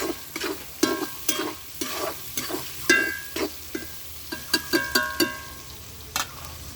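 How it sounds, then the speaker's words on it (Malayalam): Spice masala is stirred in a frying pan, a spoon scraping and tapping in an irregular rhythm over a faint sizzle, heard close with no talking. "ഇനി നമ്മളത് നന്നായി ഒന്ന് ഇളക്കണം. ഇളക്കി ആ മസാല ഇട്ടൊന്ന് തെളിഞ്ഞ് വരണം."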